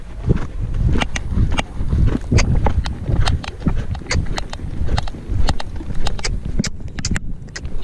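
Hooves clip-clop close and loud as a working horse backs up, an uneven series of sharp knocking steps over a low rumbling background, with no talk.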